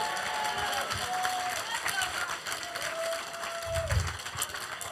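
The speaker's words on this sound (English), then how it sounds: "So can we give a round of applause for Carson?" An audience at a teen church service gives a round of applause for Carson, a moderate spread of clapping heard with talk mixed in, fairly close and steady for the whole stretch.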